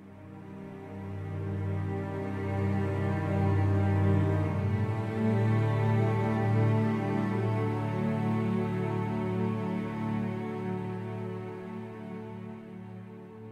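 Sampled whisper sustain strings from the Pacific Strings library swell in as a soft, dense, sustained chord, growing louder mid-phrase and then gently fading, with no voices present.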